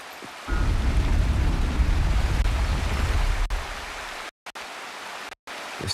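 A waterfall in the Wuthering Waves video game gives a steady rushing wash of water that runs for several seconds, then thins out and drops away in brief gaps near the end.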